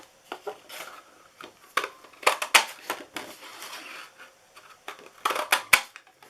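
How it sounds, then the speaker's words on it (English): A paper punch cuts small heart shapes out of cardstock, giving sharp irregular clicks and crunches in clusters, fairly close and with no talking. "We're going to go ahead and punch out our little hearts here for our leaves."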